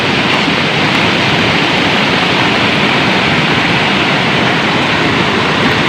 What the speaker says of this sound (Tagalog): So ganina murag dako-dako ni tubig ani kay abot dire oh.